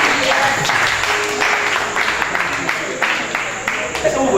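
A church congregation applauds, a dense wash of clapping that carries on steadily throughout at moderate distance.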